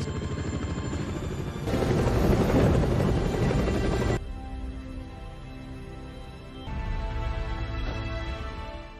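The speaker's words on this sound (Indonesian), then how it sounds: "2 helikopter datang untuk membawa Lisa pulang" Two helicopters arriving, a steady rotor chop and turbine wash that swells loud in the middle, drops back, then rises again, with no talk.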